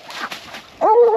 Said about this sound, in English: Here's my little dog.